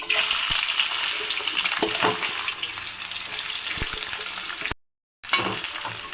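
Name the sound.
onions frying in hot oil with cumin and mustard seeds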